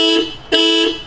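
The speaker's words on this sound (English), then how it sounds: "Honking is a pretty common feature." Car horn of a Tata Nexon EV, set off remotely from a phone app, sounds two loud, close, tonal honks with a short gap between them, the second a little longer, with no voices.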